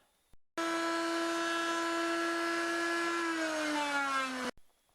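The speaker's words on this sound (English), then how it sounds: "running the router down the outside edges to round them" A router rounds over the edges of timber with a loud, steady high whine that starts abruptly, dips slightly in pitch toward the end, then cuts off.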